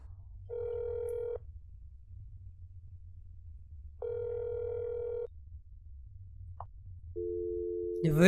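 Two long ringback tones sound in the video game That's not my neighbor while calling McCloy, each burst about a second long with a pause between, then a short blip, a different steady tone and a rising click at the end, over low hum.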